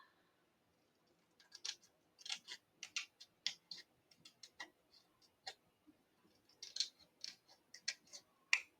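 Paper being cut with scissors for a lavender fields craft card, a series of quiet, crisp snips in an irregular rhythm, close by with no talking.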